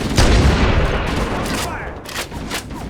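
Heavy gunfire from stationary gun emplacements in the video game Halo: Combat Evolved Anniversary, a dense rumbling barrage of booms with shouted voices mixed in.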